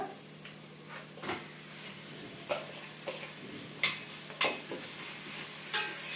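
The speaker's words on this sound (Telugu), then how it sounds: "ఉల్లిపాయలు సగానికి ఎక్కువ వేగినాయండి ఇప్పుడు నేను దీంట్లోకి చికెన్ వేసేస్తా" Chicken pieces tipped into onions frying in a pan for chicken curry, a quiet sizzle punctuated by several sharp spoon taps and scrapes against the pan.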